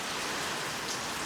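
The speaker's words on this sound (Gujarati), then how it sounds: "આ વરી વરસાદ" Heavy rain pours down during a storm in Gujarat, a dense, loud, continuous hiss of drops hitting surfaces with no voices.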